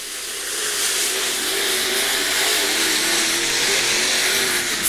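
B-Mod race cars roar down the back straightaway during the final lap of a dirt-track scramble, a loud steady engine drone that swells and holds with no one speaking.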